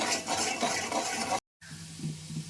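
Kashmiri chilli powder and salt stirred together in a pan for a paneer masala, a dense hissing sizzle with scraping, a brief cut to silence, then a quieter bubbling simmer.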